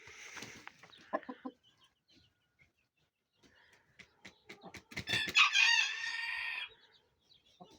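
A young training rooster crows once in a strained, wavering call, after scattered clucks and faint clicks in a quiet yard.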